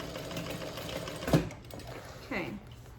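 A sewing machine back-stitches along the center seam of a handbag beside the stabilizer in short bursts of stitching, with someone talking over it.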